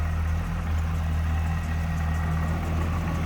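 A 2012 Cadillac CTS-V's 6.2 liter supercharged V8 with cold air intake and Borla exhaust idles steadily and close by, a deep, even rumble with a constant hum and no voices over it.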